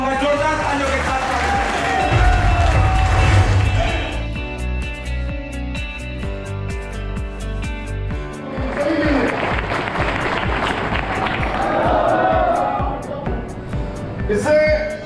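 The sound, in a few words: audience applause welcoming a guest on stage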